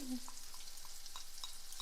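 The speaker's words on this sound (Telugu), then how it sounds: "స్టవ్ ఆన్ చేసిన తర్వాత ఒకసారి మిక్స్ చేసుకుందాం" Raw mango chutney stirred in a pan on the stove, a spoon scraping at a steady beat of soft strokes over a faint constant hiss, close and moderately quiet, with no voices.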